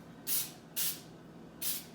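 Three short, loud hissing bursts of cooking spray onto a pan, close up, with brief pauses between them.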